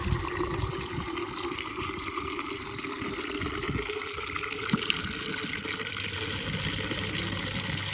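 Water pours steadily into a container at a pigeon coop, a continuous gushing fill with a low rumble, close and unbroken throughout.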